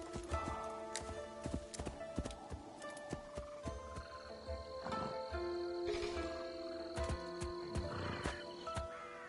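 Horse hooves clip-clop in the video game Assassin's Creed Shadows, a steady run of near hoofbeats over dense game ambience, with occasional talk over it.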